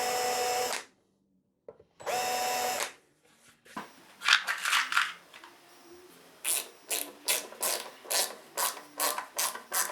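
A power drill countersinks screw holes in the wood of a Rickenbacker 620/12 guitar build: two sustained whirring bursts, then a run of short, sharp, rhythmic cutting pulses, close and fairly loud with no talk.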